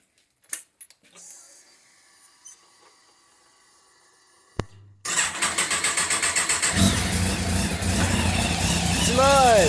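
Kawasaki ZX10R motorcycle engine cranks after scattered workshop clatter, catches and fires into a loud, rough idle with rhythmic pulsing that builds steadily, close up, with a voice heard briefly.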